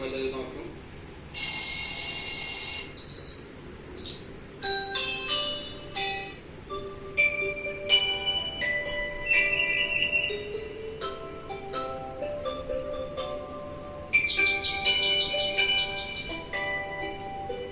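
Short phone alarm ringtone snippets play one after another, bright chiming electronic melodies changing every few seconds, close and fairly loud.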